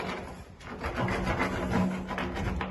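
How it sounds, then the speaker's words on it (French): A pumice stone rubs back and forth over a concrete surface, giving a steady, close gritty scraping with rhythmic strokes and no talk. "à l'aide d'une pierre ponce, commencer à casser le béton"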